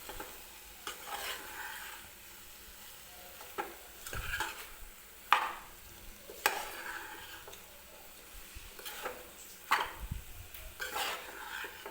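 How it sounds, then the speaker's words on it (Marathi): Potatoes sautéing with spices in a pan for a potato bhaji, a soft continuous sizzle punctuated by repeated scrapes and knocks of a spatula stirring at irregular intervals, close and fairly quiet, no voices. "तर आता हे आपले आपण मसाले वगैरे जे टाकलेले आहेत ते बटाट्यासोबत आपल्याला थोडा वेळ परतून घ्यायचे आहे"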